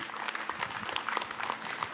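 A studio audience at a religious television show applauds, a soft, steady patter of many hands with faint crowd murmur underneath.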